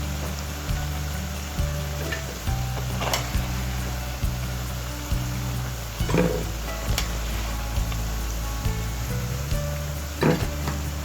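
Twisted doughnut frying in hot oil, a steady close sizzle broken by soft clacks and stirring knocks at intervals, with no talking.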